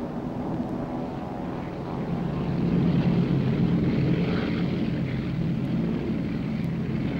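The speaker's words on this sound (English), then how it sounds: "Unerringly, the landing hooks of the planes catches the brake cables." A propeller plane comes in to land on the aircraft carrier Karel Doorman, its engine droning steadily and close. The broad roar swells a little partway through and holds, mixed with wind and sea rumble.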